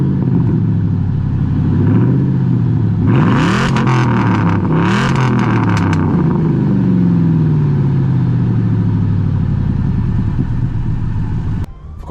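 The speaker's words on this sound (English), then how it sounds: "See here we have our side exhaust, which sound really cool" A loud Ford F-150 SVT Lightning pickup idles with a deep rumble, then its side exhaust barks through two sharp revs before settling back to a steady growl.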